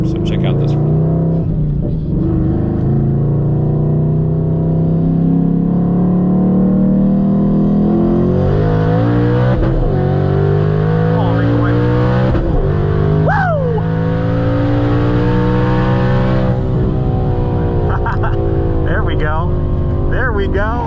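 A twin-turbo Mustang making around 940 horsepower at the wheels roars through a roll race, its engine droning loud and close for the whole stretch with rising pitch sweeps as it pulls through gears.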